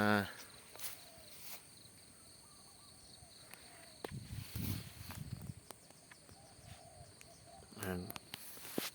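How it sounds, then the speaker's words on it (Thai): Rice field ambience with a steady high insect drone and chirping, a few faint clicks and rustles, and brief quiet voices in the background. "บรรยากาศทุ่งนานะครับ"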